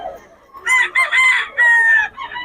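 A Golden Boy gamefowl rooster crows loud and close in one drawn-out, multi-part call that rises and then holds. There is a brief quieter call just before it and a short one after it, all heard on its own without talk.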